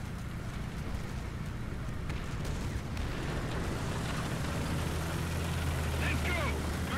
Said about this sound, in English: Our sector is under artillery barrage.